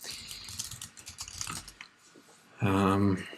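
Someone types a git commit message on a computer keyboard in quick, close clacking bursts, then the typing pauses and a voice speaks briefly.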